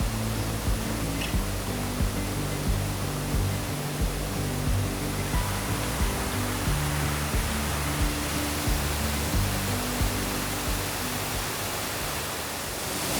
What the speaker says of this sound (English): Here we have the Deckertown Falls. It's a 3-tiered waterfall